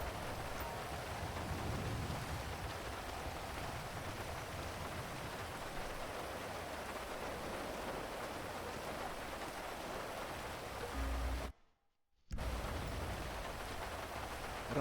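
Steady rain in GTA 5 on a rainy evening police K9 shift, a constant broadband hiss of falling drops that continues unbroken except for a brief dropout near the end, with no talk over it.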